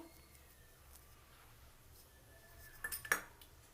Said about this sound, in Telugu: ఇప్పుడు స్టవ్ మీద బాండిలి పెట్టుకొని ఆయిల్ వేసుకోవాలి.